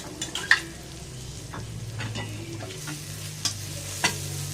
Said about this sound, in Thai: พริกแห้งนี่ไม่ต้องผัดนานเหมือน เหมือนพริกสดนะครับ